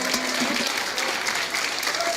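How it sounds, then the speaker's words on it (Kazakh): Applause at a Kazakh wedding face-unveiling ceremony, a continuous crowded clapping with voices and cheers mixed in. "Шапалақ!"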